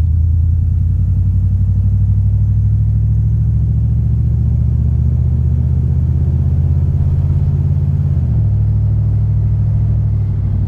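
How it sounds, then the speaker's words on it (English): A 1967 Oldsmobile Toronado drives along, its engine a loud, steady low rumble heard from inside the cabin, holding a constant drone before dipping slightly in pitch late on. "So we are in the Toronado already driving."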